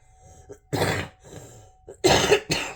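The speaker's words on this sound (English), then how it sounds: "I got this cough" Three harsh coughing bursts close by, separated by brief quieter pauses, with a short throat-clearing sound in between.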